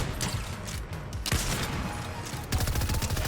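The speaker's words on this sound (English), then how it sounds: "Why am I shooting him with the rapid fire?" Rapid-fire weapon gunshots in Fortnite crackle in dense, continuous bursts, loud and close, with a brief break before another volley.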